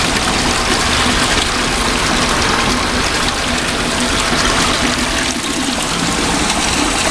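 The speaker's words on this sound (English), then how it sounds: "Water coming out." Wastewater draining out of a filter press that handles plastics wastewater sludge, a steady loud rush of flowing, splashing water that carries on without a break for several seconds.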